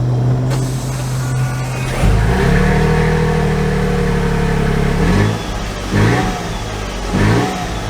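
A 2023 Toyota Sequoia Platinum accelerates from a steady hum into a loud, rising engine note, then shifts, with a few more surges of revving as it drives on, heard from close by.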